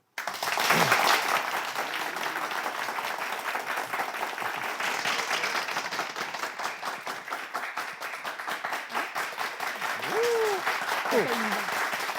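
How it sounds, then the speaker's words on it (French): A television studio audience applauds steadily for about twelve seconds, dense continuous clapping at moderate level, with a brief voice near the start. "Vous avez vu le niveau des applaudissements?"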